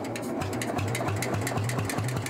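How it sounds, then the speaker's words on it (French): A 1954 German tractor engine runs steadily with a low, thumping, even pulse, loud and close throughout, without any voice over it. "Ce tracteur allemand de 1954 est l'un des joyaux de la collection de Jean-Paul"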